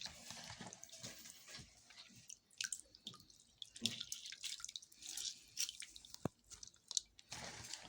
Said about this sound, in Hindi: इस तरह से दबा दबा के हमने इसका पानी अच्छी तरह से निचोड़ देना है